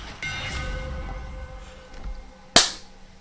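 A single sharp, loud gunshot cracks out near the end from a gun wielded with the Aspect of Hestia in the roguelike game Hades, over a low steady hum of game background sound, with no talking.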